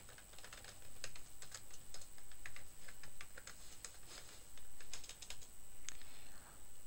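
Fast, irregular clicking of a computer keyboard as code for a Flutter backend REST API is typed, with close, crisp keystrokes running steadily over a noisy background hiss.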